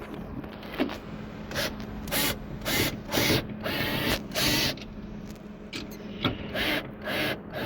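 Wrench working on bolts during a second-row seat install in a Ford E150 campervan, repeated ratcheting bursts and metallic clicks in an uneven rhythm, close and fairly loud.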